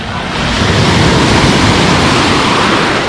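Loud, steady surf of sea waves washing onto the beach at Loo in Sochi's Lazarevskoye area, a continuous broadband roar with wind buffeting the microphone and no voices.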